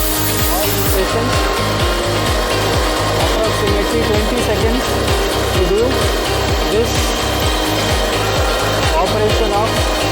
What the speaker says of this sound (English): It is doing the tool verification, and now it is the rotary table indexing.